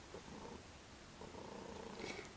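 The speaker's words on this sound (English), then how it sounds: "you probably hear my loud purring kitty right next to me" A cat purrs loudly right beside the listener, a low rumbling purr pulsing in slow rhythmic waves with each breath, steady and close in a quiet room.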